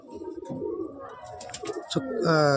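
Cut-throat line pigeons in a loft give soft cooing calls, with a sustained harmonic call rising near the end, against a busy, moderately loud background.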